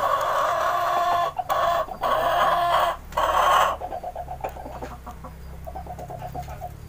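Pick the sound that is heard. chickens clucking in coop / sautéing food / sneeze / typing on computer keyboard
chickens clucking in coop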